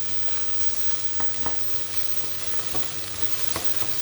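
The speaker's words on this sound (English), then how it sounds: "then let that fry a little bit, and it sticks to the bottom of the pan" Ground meat for a bolognese sauce sizzles and fries in a pan, a steady crackle with occasional sharper pops and stirring scrapes, close and moderately quiet, with no talking.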